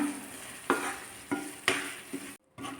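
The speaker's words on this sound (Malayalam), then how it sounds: "ഇനി നന്നായിട്ട് ഒന്നും കൂടി ഒന്ന് ഇളക്കാം." Carrot halwa is stirred in a pan with the stove switched off, giving three or four distinct scraping strokes over a soft, steady hiss and a brief pause near the end.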